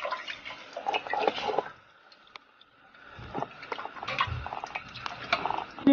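Liquid is drained from antelope meat and leaves while making antelope soup, giving close, moderately quiet splashing and trickling in two bursts around a brief lull.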